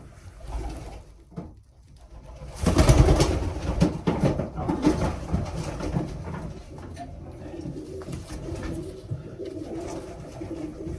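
Several large male tiger pigeons coo in a loft, with steady low cooing throughout and a louder burst of fluttering and shuffling near the start.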